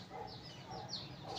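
Aseel hen clucking in a broody state, with soft repeated clucks near the microphone over steady background noise.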